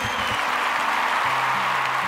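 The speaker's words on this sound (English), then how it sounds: "Let's give him a big round of applause," Broad, steady audience applause from attendees at an LPSTube Day 2023 award ceremony, filling the whole short stretch with dense clapping at an even level.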